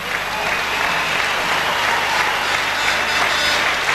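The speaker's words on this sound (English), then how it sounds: "the crowd here in Copenhagen beginning to come alive again" A crowd at a badminton match in Copenhagen, the 1999 Sudirman Cup final, applauds loudly and continuously, a dense sustained roar of clapping with some voices mixed in.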